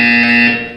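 A buzzer from the Portal 2 video game sounds in one steady, loud electronic tone under a minute, holding for most of the clip before dropping in level near the end.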